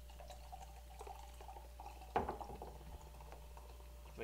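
Soda pop poured from the last bottle into a glass, a faint trickle and fizz with a brief louder splash midway, quiet and close in a cabin.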